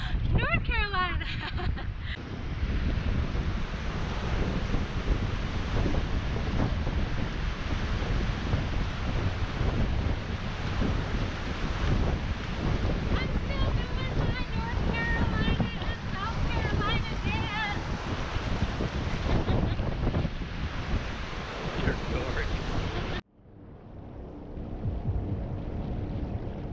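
Wind buffeting the microphone with breaking surf on an open beach at the South Carolina–North Carolina border, loud and steady throughout, then cutting off abruptly near the end to a quieter wash of water.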